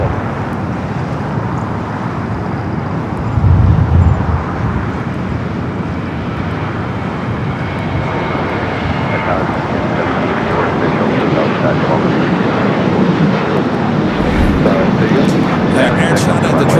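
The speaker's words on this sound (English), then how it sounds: "Also that Qantas flight 15 coming from Brisbane, also heading to the north. Cleared for takeoff." Qantas flight 15, an airliner in from Brisbane, takes off from LAX heading north. Its jet roar is loud and sustained, staying heavy and broad for the whole stretch.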